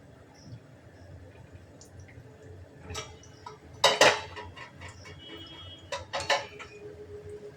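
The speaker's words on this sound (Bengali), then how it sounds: "এটা মাঝে মাঝে এরকম নেড়ে দিতে হবে, তা নাহলে তলায় লেগে যাবে।" Spoon scraping and clinking against a pot of simmering homemade ghee, a few sharp metallic knocks in quick clusters over a quiet, faintly bubbling background.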